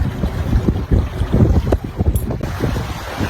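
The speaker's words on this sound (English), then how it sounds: "we're sailing the Pacific from Tahiti to Fiji on my little yacht that I built myself" A small self-built yacht sails the open Pacific between Tahiti and Fiji during a solo ocean race, with loud rushing wind buffeting the microphone and water sloshing and splashing against the hull throughout.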